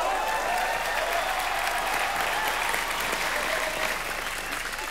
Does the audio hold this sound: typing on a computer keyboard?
no